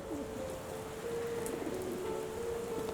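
Steady rain patters in the Sherlock Holmes The Awakened video game, a soft, even hiss with a dove or pigeon cooing faintly in the background.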